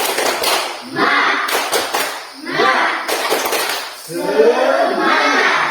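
Schoolchildren in a classroom perform the 'tepuk semangat' rhythmic clapping cheer, loud bursts of group claps in repeated patterns interleaved with children's chanting voices, filling the room in three waves.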